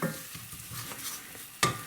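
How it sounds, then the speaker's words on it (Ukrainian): Close-up sizzling of flour frying in a pan with a spoon scraping and stirring in uneven strokes, ending with a sharp clink of utensil against metal. "Перемішуємо і смажимо, поки це все не буде золотистого кольору"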